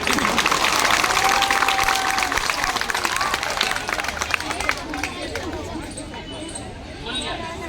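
A crowd at a Delhi protest gathering claps loudly and steadily amid chatter and shouting, the noise gradually fading toward the end.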